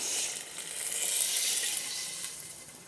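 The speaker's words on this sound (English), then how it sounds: "So then you just start filling it up with cold water" Cold tap water pouring into a pot of chicken bones, a steady hissing rush with a gently swelling loudness.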